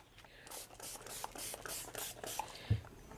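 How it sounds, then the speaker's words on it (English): Several quick bursts of a hand spray bottle misting water onto a crumpled dress fabric, a soft rhythmic series of hisses at close range, ending with a small thump. "So we spray them with water."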